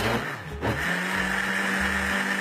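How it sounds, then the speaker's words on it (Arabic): An electric blender whirs loudly and steadily, mixing baghrir batter ingredients (everything except the yeast), with a brief dip in pitch before the motor settles back into a constant close-up drone. "غادي نديرو المكونات ديالنا كاملة في الخلاط ديالنا ما عدا الخمارة. غادي نخلطوهم واحد المدة ديال 5 ديال الدقائق."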